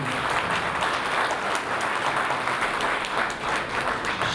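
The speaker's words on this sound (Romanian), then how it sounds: "Haideți să-l aplaudăm pentru că Părintele avea câteva emoții" Steady, full applause from a concert audience for a priest at a Christmas carol evening, many hands clapping evenly throughout with no pauses.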